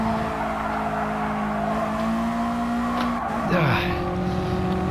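A racing car brakes hard in the GT Sport video game: a loud, sustained engine tone drops sharply in pitch as the car slows, with a brief tire squeal, close and continuous.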